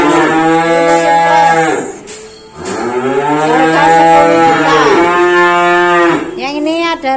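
Limousin cross cattle calves mooing loudly and close, two long drawn-out moos separated by a short pause, with a brief third call starting at the end.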